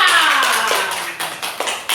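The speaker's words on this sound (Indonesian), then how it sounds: "Oke, tepuk tangan untuk Ara." Children in a classroom clap their hands together, a loud burst that fades into a few scattered, uneven claps.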